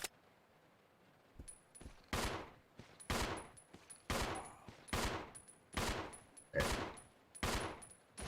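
Gunshots in the video game Resident Evil Zero, about eight loud, evenly spaced blasts roughly a second apart, each with a sharp attack and a short decaying tail over a quiet background.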